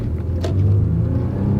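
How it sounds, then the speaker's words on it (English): A V6 car engine rumbles low and steady, swelling briefly as it picks up speed under full throttle, close by with no voices. "Now that V6 engine sounds great, still shifts like a dream"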